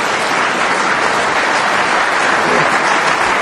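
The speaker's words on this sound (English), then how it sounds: "applauded by Ronnie O'Sullivan there as well" Snooker audience at a 2012 world championship semi-final applauds a shot in a steady, dense ripple of clapping, loud and even throughout, with a commentator speaking faintly underneath.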